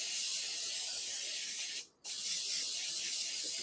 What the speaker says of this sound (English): I'm spraying my stone because I like to.